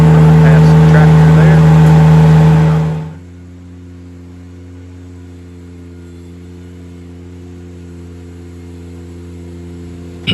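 A tractor engine runs loud and steady with a low rumble, then drops abruptly to a quieter idle hum that continues to the end.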